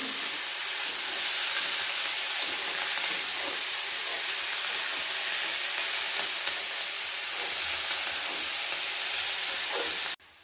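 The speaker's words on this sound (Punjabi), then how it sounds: "ਸ਼ਿਮਲਾ ਮਿਰਚ ਹੁਣ ਆਪਾਂ ਇਹਨਾਂ ਨੂੰ ਭੁੰਨਾਂਗੇ" Capsicum roasts in a pan for pasta, making a steady, close sizzle and hiss that carries on unbroken and then cuts off abruptly at the end.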